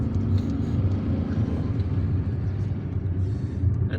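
A car drives along the Baranes road in Algiers with a steady low engine and road rumble, close and continuous for the whole stretch, with no clear talk.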